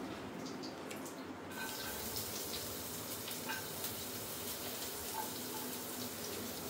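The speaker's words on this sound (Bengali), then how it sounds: "প্রথমে রসুনটা ছাড়বো।" Garlic dropped into hot oil in a home kitchen pan starts a sudden, steady hiss and crackle that continues evenly to the end, with no talking over it.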